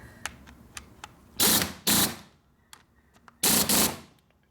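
Wrench tightening a bolt on the chassis of a 1999 80ci Evo motorcycle with a rigid frame, sharp ratcheting bursts separated by quieter metallic clicks and ticks, close up.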